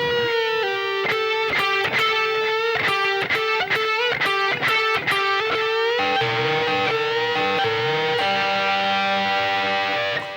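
Distorted electric guitar playing a solo phrase from a song, with sustained bent notes and quick picked runs over a backing track, loud and continuous with no talking.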